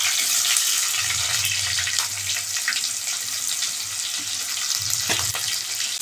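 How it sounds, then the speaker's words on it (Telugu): Onions frying in hot oil in a pan, a steady close crackling sizzle with occasional low bubbling swells, no talk over it. "ఈ నూనెలో బాగా వేగాలి."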